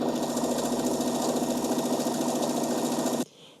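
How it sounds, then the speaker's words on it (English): A sewing machine runs steadily for about three seconds, stitching around the belt piece of a dress, then stops abruptly, leaving quiet room tone. "And sew around the whole belt piece."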